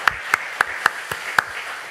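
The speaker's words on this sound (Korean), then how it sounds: "지금까지 우리를 인도하신 하나님께 우리 힘차게 박수로 한번 영광을 돌리겠습니다." Church congregation at a Sunday service clapping together in praise: six sharp, evenly spaced claps ring out loud and close in a hall, then quickly fade into a quiet reverberant tail.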